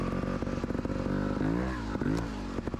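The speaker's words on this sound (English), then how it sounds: "a little bit of gas and the bike just pops right over this" A trials motorcycle engine revs as the bike climbs over an obstacle at a metro trials event, with a close, loud, pulsing motor that rises and falls in pitch alongside clattering and scraping.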